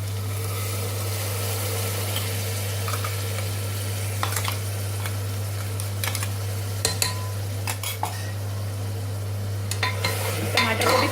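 Green chili and tomato paste fry with masala in a pan, giving a soft sizzle under a steady low hum, broken by repeated scraping and clinking stirs.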